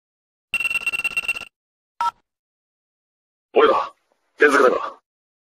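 A telephone rings with one long electronic trill and a brief second burst, followed by two short spoken phrases.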